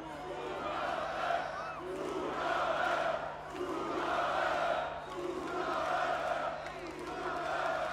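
A festival DJ set crowd cheers and shouts for an encore in steady swelling waves, with a constant low hum underneath, loud and massed throughout.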